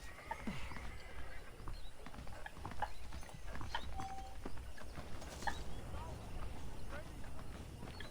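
Horses neigh and whinny amid clip-clopping hooves and busy ambient noise, with voices faint in the background, in the video game Red Dead Redemption (PC).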